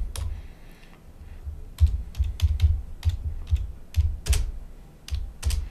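Typing code on a computer keyboard, with irregular bursts of clicky keystrokes and short pauses between them, close and clear, with no talking.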